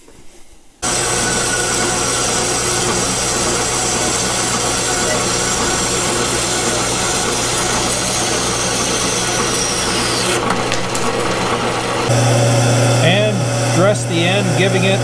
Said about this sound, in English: Let's start by cutting it to length.